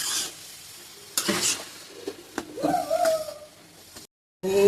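Banana flower curry stirred in a pan on a gas stove, with bursts of scraping and sizzling as the spoon moves, uneven and close, a short gap of silence, then the stirring resumes.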